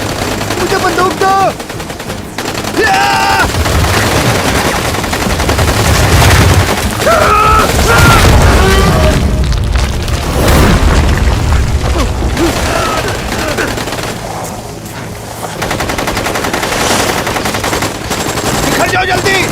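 Loud, dense gunfire from an animated film, with rapid machine-gun bursts and heavier booming blasts running almost continuously over a chaotic shark-attack scene, with shouted voices partly buried in the noise.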